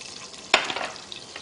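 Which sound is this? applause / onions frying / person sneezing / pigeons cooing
onions frying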